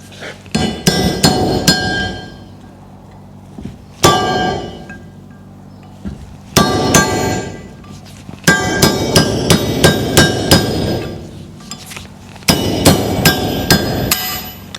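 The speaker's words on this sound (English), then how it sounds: "See if I can get it off with a punch, with a chisel." Metal punch and chisel struck by a hammer while removing a bush from the front end of a Ferguson TEA20 tractor: loud, ringing metallic blows in quick bursts of several strikes with short pauses between, close up and without talk.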